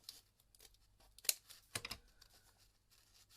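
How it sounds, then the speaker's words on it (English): Quiet snipping and crisp cutting clicks of scissors cutting paper journal templates, a few sharp cuts clustered together, with soft paper rustle between them and no talking. "because I've got clips on I can actually do it with my scissors"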